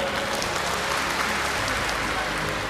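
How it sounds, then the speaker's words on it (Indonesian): A university public lecture audience applauds in a loud, dense, steady burst of clapping that fills the room from start to finish. "Tepuk tangan."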